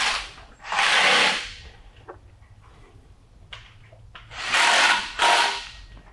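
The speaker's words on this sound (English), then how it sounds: "Okay, and now you can start tightening that up, Kenzie." A socket wrench ratchets bolts tight while an LS Victory Series kit is installed in a shop, with two loud bursts of rapid clicking near the start and two more toward the end, separated by quieter handling noise.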